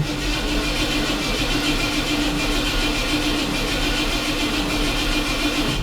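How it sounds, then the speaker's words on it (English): A 1978 Ford F250 truck engine running just after a cold start, a steady, continuous idle heard up close with no talking. "Let's start it up and do a cold start."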